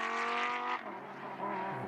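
Lamborghini Super Trofeo race cars crossing the finish line at Paul Ricard, one engine screaming past loud and then fading, followed by a second car's engine note rising briefly in the distance.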